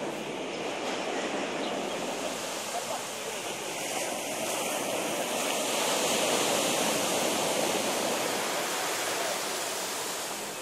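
Steady broadband surf washing onto the wide sandy Karon Beach in Phuket, Thailand, a continuous roar of breaking waves with a slight swell in loudness midway, no voices.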